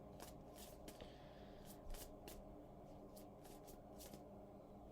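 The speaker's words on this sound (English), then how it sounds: "I'm getting my cards ready and organized, shuffled" A deck of reading cards is shuffled close by, its crisp riffling and flicking coming in repeated short bursts, quiet and with no talking.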